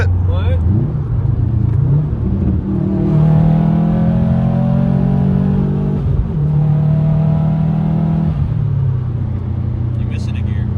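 A Corvette's engine rumbles and revs in a couple of loud surges over roughly ten seconds, pitch rising and settling, with people talking over the engine noise.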